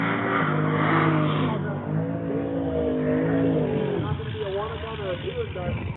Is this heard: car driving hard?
yes